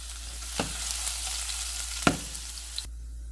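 Crushed garlic and dried red chillies sizzle in hot oil with a steady, close, bright frying hiss. A couple of stirring scrapes break through before the sound cuts off abruptly near the end. No one speaks.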